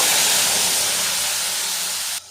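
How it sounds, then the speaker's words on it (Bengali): A spice mixture with red chili powder hits hot oil, producing a loud, steady, steam-like hiss that stays strong and even, then drops sharply near the end. "এবারে এই তেলের মধ্যে মশলা মিশ্রণটা দিয়ে দেব"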